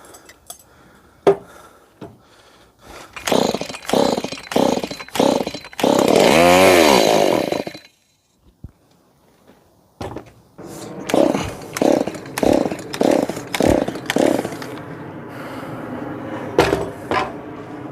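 Stihl MS170 chainsaw, with short revving bursts, a sustained high whine mid-clip, a pause, then another series of quick rev pulses, close and loud.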